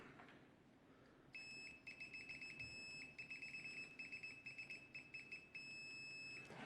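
TES PROVA903 dual-channel multimeter sounding a continuity beep through probe leads, a steady high-pitched tone starting after a quiet moment and holding, faint and close, with light handling noise and no talk.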